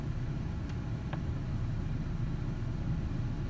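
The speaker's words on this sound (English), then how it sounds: "you can tell she's kind of RPM hunting right there" Ford Ranger engine idling with the air conditioning on, RPM hunting: a low, steady rumbling idle heard up close, fairly quiet and continuous with slight fluctuations.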